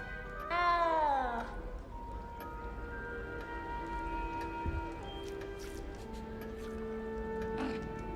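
A small cat meows in Hogwarts Legacy, one rising, wavering meow close up near the start, then faint ambient tones and a softer cry near the end.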